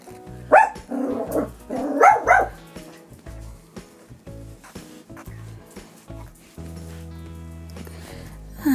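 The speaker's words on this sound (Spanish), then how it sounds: "¿a quién le ladras tú?" A small dog barks and yips in several quick bursts indoors during a night-time routine, sharp close barks at first, then quieter with gaps, over a low steady background hum.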